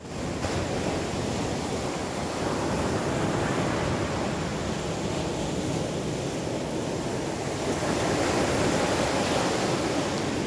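Sea waves wash steadily onto the shore, a continuous loud roar of surf mixed with wind buffeting the microphone, with no speech over it.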